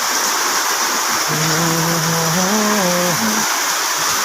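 Heavy monsoon rain and strong wind during a habagat storm in Hilongos, Leyte pour down as a dense, steady roar, loud and close, with a short tonal hum rising briefly through the middle.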